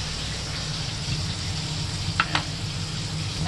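Egg cooking in a pan like a martabak, giving a steady, close sizzle that runs throughout under a low hum, broken by a couple of brief clicks near the end, with no voices.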